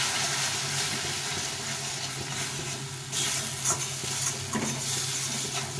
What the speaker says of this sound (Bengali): লবণ আর হলুদ গুঁড়ো দিয়ে একটু ভালো করে কষিয়ে নিই